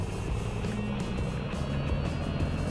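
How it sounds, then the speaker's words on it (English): A steady, droning tractor engine from a vehicle transporting video game, a continuous low rumble with constant loudness throughout and no voices on top. "Next, this is the tractor. Let's go playing with tractor."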